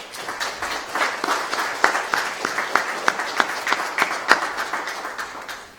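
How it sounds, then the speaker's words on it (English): A crowd applauding steadily, dense overlapping claps that hold at an even level for several seconds. "If you could give her a round of applause."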